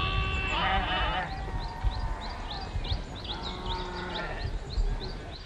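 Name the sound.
sheep (ewes) bleating on a mountain farm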